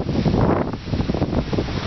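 Hurricane-force wind roars steadily through trees, loud and continuous with buffeting against the microphone and surging gusts.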